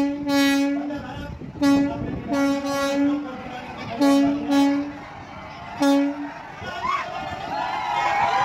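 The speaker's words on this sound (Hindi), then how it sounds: "ये है वंदे भारत ट्रेन जो हम सबके बीच है" A Vande Bharat semi-high-speed engineless train at its inaugural ceremony on the Bhagalpur to Howrah route sounds several loud horn blasts in an irregular rhythm, with crowd noise and chatter on the platform between them.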